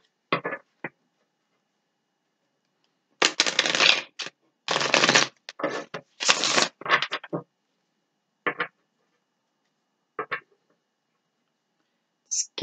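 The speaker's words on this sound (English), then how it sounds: "While I'm shuffling," Tarot cards being shuffled during a reading, heard as short papery riffles and bursts, a few close bursts of dense card flutter in the middle with scattered small taps around them, no talking.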